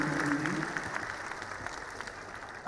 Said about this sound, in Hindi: एक बार जोरदार तालियों के साथ आज के कार्यक्रम के मुख्य अतिथि